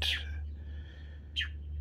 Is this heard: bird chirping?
yes